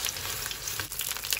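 Oil crackling and sizzling in a hot pan as eggplant fries, a dense bright hiss with scattered pops, close and continuous.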